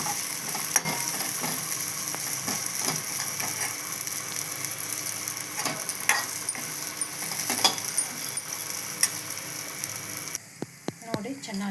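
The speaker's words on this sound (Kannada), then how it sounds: "ಇವೆಲ್ಲ ಡ್ರೈ ಫ್ರೂಟ್ಸ್ ರೀ ಸ್ವಲ್ಪ ತುಪ್ಪ ಹಾಕಿ ಒಂದು ಸ್ಪೂನು ಚೆನ್ನಾಗಿ ಸ್ವಲ್ಪ ಬಿಸಿ ಮಾಡ್ಕೋಬೇಕು ಫ್ರೈ ಮಾಡಬೇಕು" Dry fruits roasting in a spoonful of ghee for a homemade pressure-cooker cake, a constant crackling sizzle with repeated sharp spoon scrapes and clicks against the pan, louder ticks toward the end.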